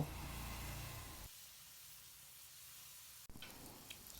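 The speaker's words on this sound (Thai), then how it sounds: "แล้วผัดให้ทุกอย่างเข้ากันค่ะ" Cucumber, egg and pork stir-fried together in a pan, giving a faint steady sizzle that drops quieter for a couple of seconds, then returns with a sharp clatter.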